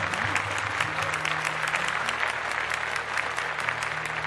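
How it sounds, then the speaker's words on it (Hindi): Audience applause fills the space, dense steady clapping from a crowd continuing throughout without pause. "जोर से ताली बजाओ इनके लिए"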